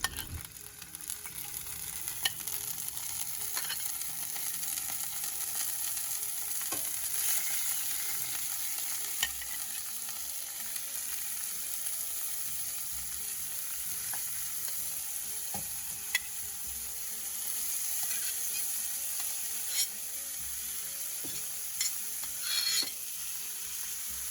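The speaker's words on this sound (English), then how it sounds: "you can go straight into frying the pork and the lotus roots until they are crispy" Pork and lotus roots sizzle and crackle steadily in hot oil, a dense continuous fry with occasional clicks and scraping of stirring, no voices.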